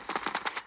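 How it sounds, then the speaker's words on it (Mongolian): A shooting video game fires a quick burst of about six evenly spaced shots, sharp and loud, lasting under a second. "Би толгойлоо буудах гингүүд л байна."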